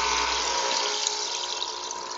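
A small air pump forces air through a homemade air-stone submerged in water, producing a steady, dense hiss of fine bubbling that holds constant throughout, close and alone.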